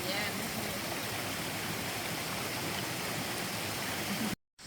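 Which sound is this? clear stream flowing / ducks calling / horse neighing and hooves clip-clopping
clear stream flowing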